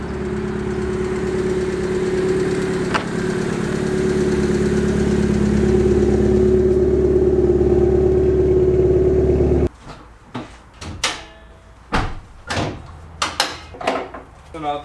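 A Honda Civic's single-cam engine idling with a steady low rumble for several seconds, then it cuts off and a voice speaks with clunks nearby.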